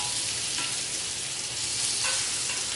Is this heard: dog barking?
no